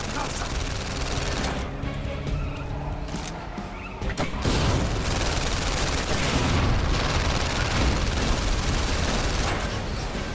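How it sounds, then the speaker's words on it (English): Heavy gunfire and explosive bursts in the VR shooter London Heist, with a grenade launcher firing at the player; dense, loud, continuous blasts with no speech over them. "He's got a grenade launcher on us."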